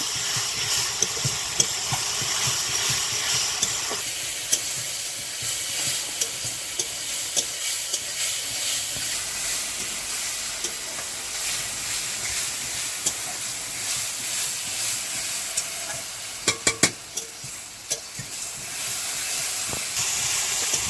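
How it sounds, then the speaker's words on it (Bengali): A spice paste with turmeric powder is fried and stirred in a pan for a katla fish curry, giving a constant hissing sizzle broken by occasional sharp scrapes and clatters of the spoon. "হলুদ গুঁড়ো দিয়ে দিলাম মশলাটাকে আমি ভালো করে কষিয়ে নেব"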